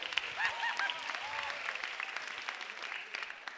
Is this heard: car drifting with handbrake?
no